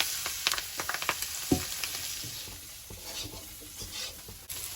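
Potatoes frying in a pan with soybean chunks, panch phoron, dried red chili, ginger and cumin powder, a steady close sizzle broken by stirring scrapes and a few sharp clinks of a utensil against the pan.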